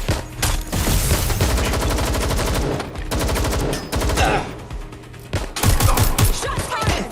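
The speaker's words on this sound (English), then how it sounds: "Shots fired!" Sustained bursts of automatic gunfire and rapid shots in the video game Watch Dogs: Legion, loud and close, with dense overlapping volleys, a brief lull near the middle and a sharp renewed burst toward the end.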